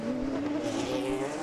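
Race cars on the Long Beach street circuit during the 2007 American Le Mans Series event, engines droning steadily with a tonal whine and a hint of tire noise, continuous and fairly close for a brief moment.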